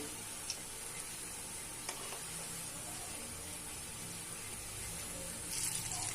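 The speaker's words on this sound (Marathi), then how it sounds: "मोदक आपल्याला लाल रंग होईपर्यंत तळायचे." Fried modak dumplings deep-frying in oil give a constant soft, dense hiss and crackle at low level, with a couple of faint clicks and a slight swell near the end.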